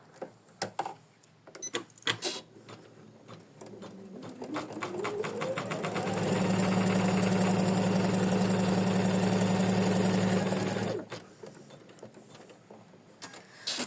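After a few handling clicks, a sewing machine starts up and stitches lace onto fabric, revving to a steady loud hum for about five seconds before cutting off, followed by quiet rustling.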